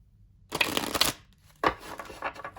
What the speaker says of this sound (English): You can side shuffle with them and all that fun stuff.